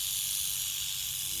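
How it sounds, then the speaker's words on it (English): A timber rattlesnake in a wetland gives a steady, continuous breathy hiss, close and alone, lasting the whole moment without a break. "this guy is just hissing and puffing up"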